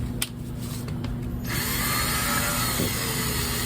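A power drill set to its lowest speed spins slowly while deburring brass rifle cases, giving a steady, close, whirring tool drone that gets louder and brighter partway through, with no talking.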